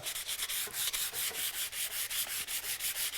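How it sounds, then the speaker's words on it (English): A wooden rod is rubbed with 220 grit sandpaper in fast, even back-and-forth strokes, a soft, close, hissing rasp repeating steadily without talk. "So just 220 grit sandpaper, run that over the outside edge of that rod."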